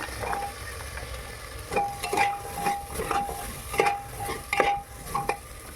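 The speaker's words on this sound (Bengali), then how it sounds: "আর মটরশুঁটি দিয়ে কিছুটা ভেজে নেব।" Potatoes, carrots, capsicum and peas for pav bhaji fry softly in a pan. A spoon stirs and scrapes the pan in repeated strokes over a low, steady sizzle, with no one speaking.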